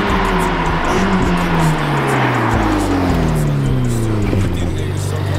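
A powerful Ferrari F8 sports car engine roars close by, pitch sweeping down as it shifts and slows, loud and continuous.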